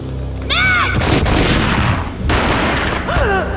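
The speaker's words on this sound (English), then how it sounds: "A gunshot boomed and she fell down in slow motion." A gunshot in the video game Max Payne rings out as a loud, sustained burst of noise filling the clip, framed by short swooping tonal effects near the start and end.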